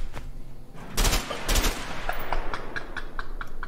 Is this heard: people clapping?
no